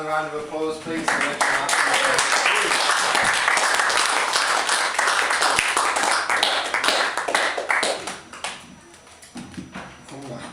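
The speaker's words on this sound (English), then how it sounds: "Another round of applause, please." Audience applause at a literary salon in Bar Loco, a dense burst of clapping with some cheering that fills the room and then thins out toward the end, with a voice heard briefly at the start.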